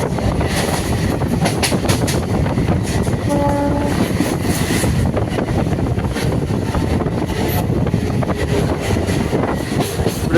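An electric EMU local train from Sullurpeta to Chennai Central rumbles along steadily with rattling wheels and clatter, a short horn note sounding briefly partway through.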